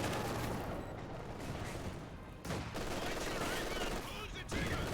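Gunfire and explosions on a battlefield in a Gov't Issue World War game, with British artillery shelling a defensive position; a continuous loud barrage of shots and blasts with brief dips.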